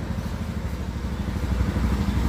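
A Honda Zoomer scooter with a faulty fuel injector revs close by, its engine droning in a steady, rough, uneven rumble with slight pulsing throughout, alone without voices.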